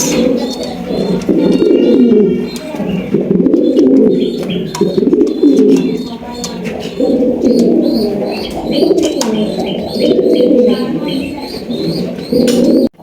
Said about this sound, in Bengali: এখানে রয়েছে চমৎকার একজোড়া ব্ল্যাকলেস শাটিন কবুতর